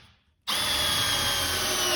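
Milwaukee M12 installation driver at speed 2 driving a screw, starting abruptly after a brief silence and whirring steadily and loudly up close, rising slightly at the end.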